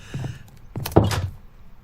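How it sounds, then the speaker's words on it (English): Doors in the Minecraft video game thunk open and shut, with a couple of soft knocks near the start followed by a sharper, louder clunk and a brief rattling slide about a second in, close and alone. "not sure about these new door noises they put in Minecraft"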